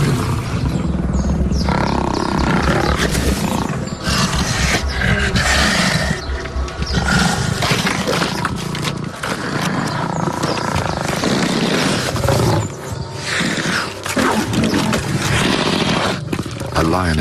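Lions roar and snarl as they fight over an antelope kill in the wild, a dense, loud, continuous clamor of growls and grunts with scuffling, and a narrating voice running over it throughout.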